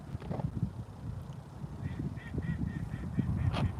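Waterfowl, a duck or goose, honks and quacks in a steady run of short repeated calls outdoors, moderately distant over low rumbling wind and handling noise.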